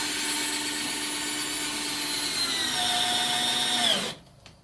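Hyper Tough 20V cordless drill driving and countersinking a screw, a loud, close, steady motor whine whose pitch drops as it bogs down under load before it abruptly stops, no talking.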